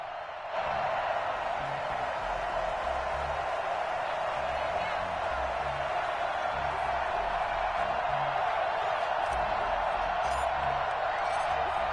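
Stadium crowd noise from an EA Sports NFL video game, the New York Jets facing the Tennessee Titans, forms a steady roaring bed under a commentator's voice.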